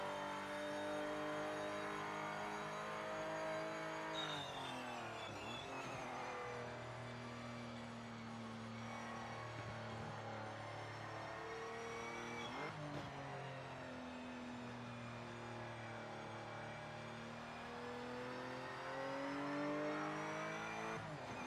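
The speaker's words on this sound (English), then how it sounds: "This car sound great." Race car engine in the motor racing game Project Motor Racing, revving steadily and loudly throughout with pitch sweeps as gears shift, a few sharp upshifts marking the run, with no talk over it.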